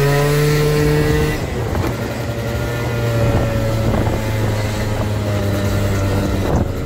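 A tuned two-stroke scooter pulls away from a standstill, its engine note climbing into a steady buzzing drone with wind rumble on the microphone.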